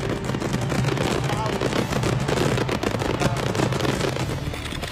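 Fireworks bursting during a pyromusical show, a dense, continuous rumble of crackling booms and pops layered over loud music, steady and distant-sounding throughout.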